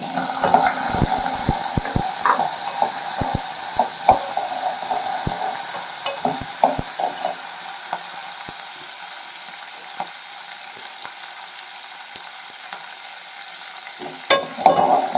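Onions and green chillies sizzle and fry steadily in a pan for a dry anchovy fish fry, with a spoon stirring and scraping throughout, close and fairly loud, with no talk.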